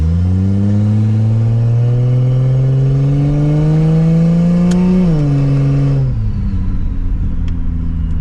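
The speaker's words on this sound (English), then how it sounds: "we're driving my Lexus" A turbocharged Lexus IS300 with a TH400 automatic transmission pulls away, its engine droning loud and close as the pitch climbs steadily, dips briefly at a gear change, then settles into a lower cruising hum.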